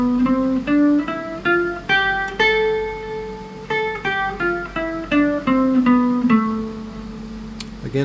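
Guitar plays the A natural minor scale, the Aeolian mode, as single picked notes stepping steadily through one octave and back, close and unaccompanied, the last note left ringing.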